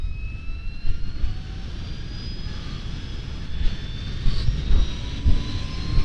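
A 2023 LiveWire One electric motorcycle ridden in sport mode, heard as a steady broadband wind and road rush with faint rising electric whine tones, continuous and fairly loud with slight swells.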